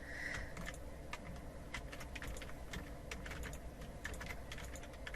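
Rapid, irregular computer mouse clicks ring out close and quiet as the mouse is moved and clicked while testing a Game Maker point-and-shoot zombie game, with no talking.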